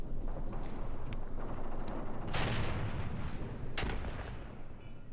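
Howitzer artillery fire in the Graviteam Tactics war game, a dense, continuous rumble of distant booms and blasts with a couple of sharper, louder reports standing out over the steady battlefield roar.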